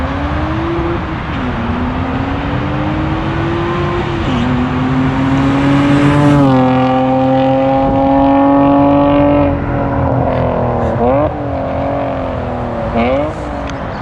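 A BMW 540 E34 straight six with a new exhaust holds loud sustained revs during burnouts, rising to a higher roaring pitch midway with a few sharp blips, and faint voices underneath.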